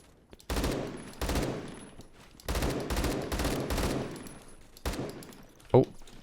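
An AK12 fitted with a BARS barrel in Roblox Phantom Forces fires several short bursts, loud and close with gaps between them, ending in a single sharp click.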